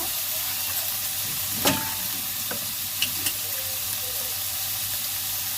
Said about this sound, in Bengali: হালকা করে চিংড়ি মাছগুলো ভেজে নেব।